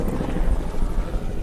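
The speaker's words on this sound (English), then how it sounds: "Apologies for the helicopter." A helicopter flies overhead during a live outdoor broadcast of an aviation podcast, its steady low rotor rumble filling the whole stretch without a break and with no talking over it.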